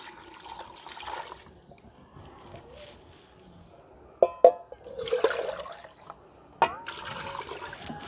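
1.5 litres of water is poured from a vessel into a pot of haleem with cooked meat, giving intermittent splashing and trickling bursts at close range, with some quiet gaps and clinks between pours.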